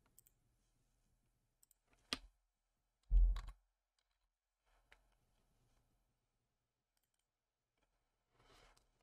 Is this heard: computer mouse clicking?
yes